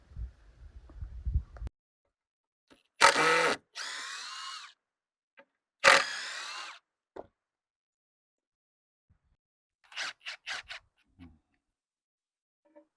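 A power drill drives a couple of screws into the side of a 4x4 wooden post on a DIY solar panel mount, giving two loud bursts of whirring with quieter trailing runs, then a few short clicks and taps, no talk.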